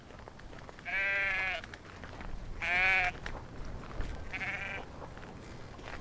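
Sheep bleat three times in separate calls in the video game 1711 Ireland: A Witch's Fate, the middle one loudest, over a quiet outdoor background with a single brief spoken word.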